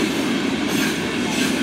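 A railway locomotive built by the Deutsche Bundesbahn for freight service rolls past during a locomotive parade at a rail museum summer festival, a loud, close, continuous rumble of wheels on track.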